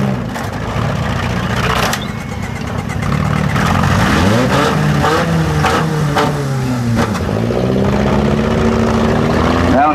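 A demolition derby car engine revs hard and rises and falls in pitch while the car backs up in reverse during a heat at a Tuscarawas County, Ohio event, loud and close, with crowd noise and an announcer talking over it.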